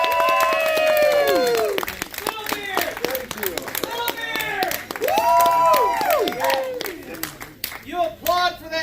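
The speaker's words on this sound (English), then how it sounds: "I want you to give a big round of applause for Mr." Convention concert crowd giving loud applause with whoops and cheering as a performer is introduced, voices shouting and hollering over continuous clapping.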